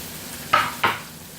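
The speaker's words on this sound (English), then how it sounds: "So we'll take this freshly diced garlic and just toss it in there" Freshly diced garlic tossed into a hot pan with butter and cheese for filet mignon, two quick stirring sizzle bursts over a low background hum, close and moderately loud.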